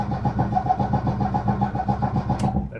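A Lada Niva engine cranks over with the choke partly pulled, the starter turning it in a steady, even rhythm for a few seconds without catching, close and fairly loud.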